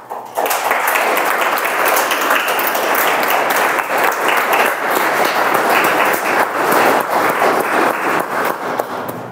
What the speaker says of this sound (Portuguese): Bater palmas é produzir energias, é movimentar as vibrações de gratidão.